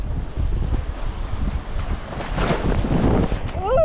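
Big waves slap against a small wooden boat at sea while a strong wind roars across the microphone, a steady loud wash of water and gusts, close and continuous, with brief faint voices.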